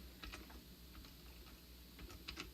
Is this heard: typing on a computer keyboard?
yes